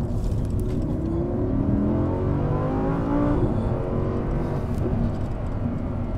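Audi R8 LMX supercar engine droning steadily while driving, a continuous close, loud hum with rising and falling harmonic tones as the revs change, running alone without talk.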